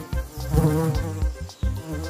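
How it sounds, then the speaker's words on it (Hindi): A mosquito buzzing close by, a steady insect drone with a few soft pulses and small dips in loudness over about two seconds, with no voices. "मस्कीटो को हिंदी में मच्छर कहते हैं।"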